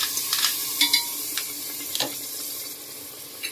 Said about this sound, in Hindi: देखिए अब थोड़ा सा दही ऐड कर देंगे हम लोग,